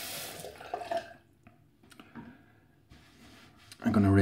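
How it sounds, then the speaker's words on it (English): Tap water runs as a double-edge razor fitted with a Perma-Sharp Super blade is rinsed, with splashing, a few clicks and drips at moderate volume, and a louder gush at the end. "I'm gonna rinse it off"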